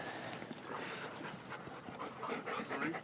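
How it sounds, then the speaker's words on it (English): A poodle-type dog pants quickly and steadily close by, soft rhythmic breaths over a noisy background with faint voices. "So we have a complimentary dog this morning."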